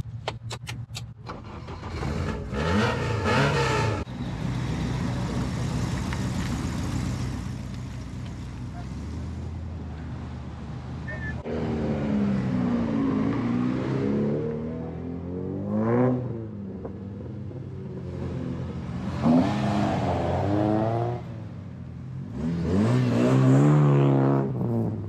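A Honda VTEC turbo car engine warming up after starting, with several loud revs rising and falling over a steady running drone, as at a car meet outdoors, with some background voices.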